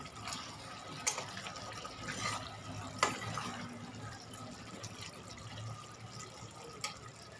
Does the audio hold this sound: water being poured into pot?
yes